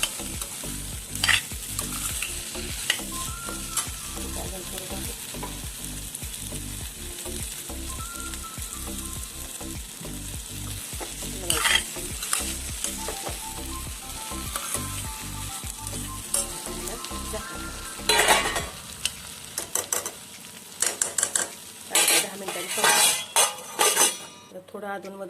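Okra frying in a pan sizzles continuously while a utensil scrapes and stirs it in repeated close strokes, with occasional clinks of metal on the pan and a person talking over the cooking.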